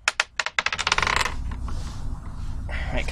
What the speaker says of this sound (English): we'll roll a dice